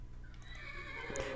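A horse neighs in Minecraft with the Mo' Creatures mod, a clear close whinny over a faint background, with no talking.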